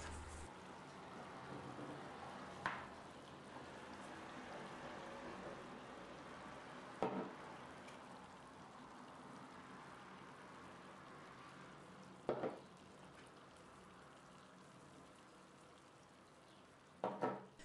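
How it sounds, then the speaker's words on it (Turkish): Butter sizzles gently in a pan on the stove as it melts. The steady, faint crackle is broken by a few soft clinks and taps, with no voices. "Tamamen tereyağı eriyene kadar ocakta kalacak."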